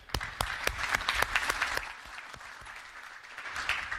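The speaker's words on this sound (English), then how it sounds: "So, round of applause." Applause from an audience at a talk. The clapping is loud and spread across the room, dense at first and then thinning.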